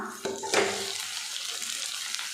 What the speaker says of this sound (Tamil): இப்போ இதில் பொடியாக நறுக்கி வச்சுருக்கிற வெண்டைக்காய் சேர்த்துடலாம்.